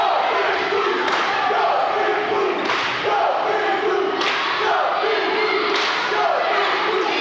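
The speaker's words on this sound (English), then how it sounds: "Cheering section's out in numbers over there." High school volleyball cheering section in a gym roars in rhythmic bursts, swelling roughly every second and a half into loud group shouts over a constant crowd din.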